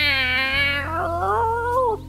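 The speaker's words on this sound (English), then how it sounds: "You gotta sound like a cat in heat." In the adventure game Truberbrook, a cat lets out one drawn-out caterwauling mating yowl. The meow wavers and bends in pitch over about two seconds and stands alone.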